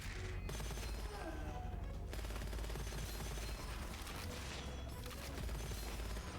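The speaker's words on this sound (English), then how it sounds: "He's shooting me." Dense enemy gunfire in the shooter Gunfire Reborn, rapid continuous bursts that stay loud and steady throughout, with brief gaps in the high crackle.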